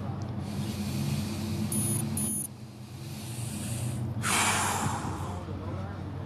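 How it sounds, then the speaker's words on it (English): A person takes a deep breath, with a noisy inhale and then a longer exhale, close and fairly loud against a low background hum. "first of all, deep breath"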